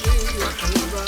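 An Indian snack fries in a pan with a close, steady sizzle and bubbling hiss for a brief moment.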